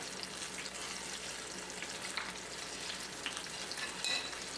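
Italian apple fritters fry in oil and are turned now and then, giving a continuous soft sizzle with a few faint clinks and stirring touches, fairly quiet and without speech.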